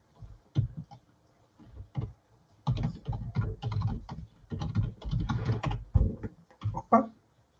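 Computer keyboard typing during a programming demo: close, quiet bursts of rapid keystrokes, sparse at first and then dense, with no talk.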